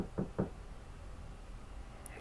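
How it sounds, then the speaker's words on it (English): Two quick knocks on a door, a video game sound effect, sound close and clear, followed by quiet. "You knocked on the door."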